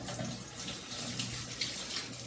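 Tap water runs steadily into a sink while dough is rinsed off hands, a soft continuous splashing stream with small irregular spatters, close and fairly quiet.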